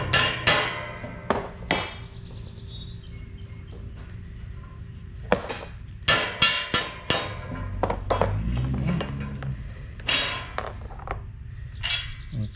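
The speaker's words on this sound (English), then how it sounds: "Got a little rubber mallet for these because they're kind of hard to tap in." Rubber mallet tapping end caps into a Garvin Industries Expedition roof rack on a JL Jeep Wrangler: repeated sharp, close knocks in uneven bursts, with some clattering and metal handling between strikes, no speech.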